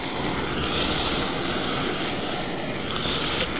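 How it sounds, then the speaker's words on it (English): Propane torch roaring steadily while heating tallow for old-school lead sledding, a continuous broadband rush with no breaks, close and fairly loud throughout. "So we're going to do this with our propane torch."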